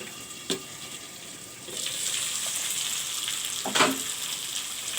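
Spice masala of turmeric, chili and cumin frying in mustard oil sizzles softly at first, then swells into a louder, continuous crackle with a couple of stirring knocks.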